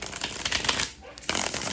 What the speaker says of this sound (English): I really love decks that I can fully one hand shuffle,